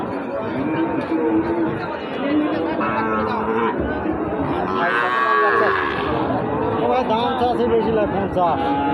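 Cattle moo amid a busy crowd at a livestock market, with loud overlapping chatter and bargaining voices filling the space throughout.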